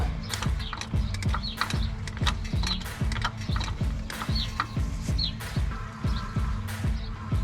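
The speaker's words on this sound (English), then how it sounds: "I'm gonna place a jack underneath the lower control arm and just raise it up." A jack raising a car's lower control arm, with rhythmic repeated mechanical clunks and squeaks as the handle is pumped, loud and close, steady throughout with faint chirping in the background.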